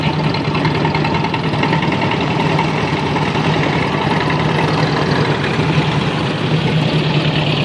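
A 1954 Ford 8N antique tractor idles at an agricultural expo parade, giving a loud, steady, unbroken engine drone with a low mechanical hum throughout and no voices.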